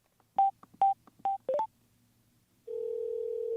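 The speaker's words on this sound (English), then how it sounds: "you can redial your last number by tapping the media button 3 times" Phone redial through a Cardo HJC Spirit motorcycle headset: four short, evenly spaced dialing beeps, a quick double tone, then a steady ringing tone that continues to the end.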